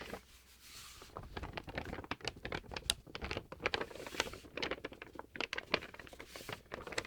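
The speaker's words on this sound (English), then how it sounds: "This is a typical brown paper bag." A typical brown paper bag being crinkled up close, producing soft, irregular crackling and rustling in dense bursts, quiet and alone without talk.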